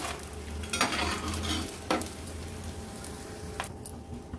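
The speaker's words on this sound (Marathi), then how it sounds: "उरलेला डिंक पण असाच आपण थोडा थोडा करून तळून घेणार आहोत।" Edible gum (dink) frying in hot oil, a soft continuous sizzle broken by a few sharp scrapes and clinks of a spoon against the pan.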